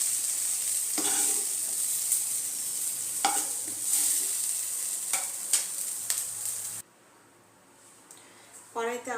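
Mushrooms fry in a kadai with a steady hiss and occasional stirring scrapes, then the sizzle drops away near the end as a voice begins speaking.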